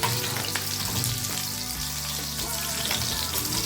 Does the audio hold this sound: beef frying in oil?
yes